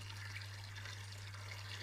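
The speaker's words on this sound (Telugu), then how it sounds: "పంపు ఆన్ చేస్తే ఏమవుతుందంటే మనకి వాటర్ ఇలా ఈజీగా వచ్చేస్తాయి" Water drains from an air cooler through its pump, flowing steadily with a continuous rushing sound and a constant low electrical hum from the running pump.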